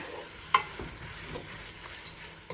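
Sliced onions for chicken biryani soften in hot oil with a faint, soft sizzle, and a couple of light utensil taps mark the stirring.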